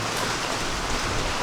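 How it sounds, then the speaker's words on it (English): Heavy rain pours steadily outside a workshop, a dense, even roar of drops with no pauses or voices. "it is absolutely pouring rain outside."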